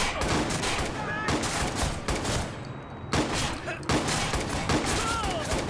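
Rapid gunfire rattles through a Watch Dogs firefight, dense continuous bursts of shots with brief pauses between volleys, loud and close, under the game's background noise.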